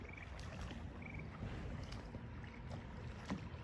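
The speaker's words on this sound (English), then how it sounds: "We've been paddling for almost a mile." Kayaks paddled across open water, with soft rhythmic paddle strokes and water lapping under steady wind noise, fairly quiet and close.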